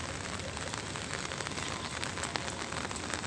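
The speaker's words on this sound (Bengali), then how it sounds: "এই তো অবস্থা আমাদের বাগানে বৃষ্টির মধ্যে।" Rain falls steadily on a garden, a dense, even patter of drops on leaves and surfaces, close and continuous with no voices.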